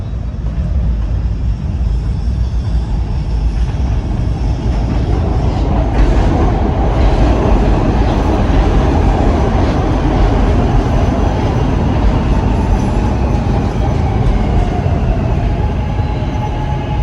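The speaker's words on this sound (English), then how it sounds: "We got a train coming right now." A SEPTA train pulls into a Frankford, Philadelphia station with a loud, continuous rumble and roar of wheels on rails. The noise is broadband and steady throughout, with a faint rising whine from the train's motors.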